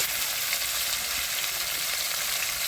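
Drumstick stalks and green chillies frying in oil in a pan for a Bengali rohu fish curry, a loud, dense, continuous sizzle with steady crackling throughout.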